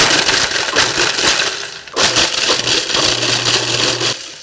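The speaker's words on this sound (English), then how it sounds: "way to pulverize them into crumbs is to use a food processor" A food processor pulses broken cookies into crumbs, loud grinding and crunching bursts with a brief pause near the middle, then a steady motor hum beneath the chopping.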